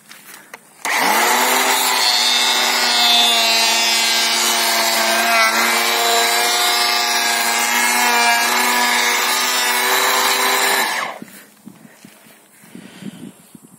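A cordless electric planer, set to a 0.5 mm cut, shaves along a wooden beam with a loud, steady, high whirring rasp for about ten seconds, then spins down to quiet handling noises.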